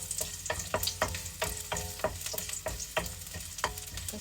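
Onion fries in oil in a pan for beef broccoli with mushrooms, a constant sizzle punctuated by repeated spatula scrapes and taps in an uneven rhythm, close and clear.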